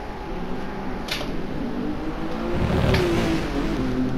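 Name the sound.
Lamborghini Diablo GT V12 engine roar in the GT Sport video game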